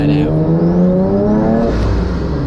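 A twin-engine car at about half throttle climbing toward boost, a loud close engine drone rising steadily in pitch for about two seconds before easing off.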